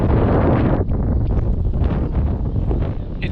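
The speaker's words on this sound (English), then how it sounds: "It's a lot of wind." Strong wind roars outdoors, buffeting the microphone in a loud, broadband rush that dips briefly and then keeps gusting for a few seconds, with no talk over it.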